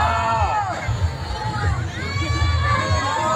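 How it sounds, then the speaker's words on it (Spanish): Someone shouts from a big outdoor crowd at a live comedy show during a coffee fair, with cheering and chatter swelling around the shout for a few seconds. "Hasta el niño gritó"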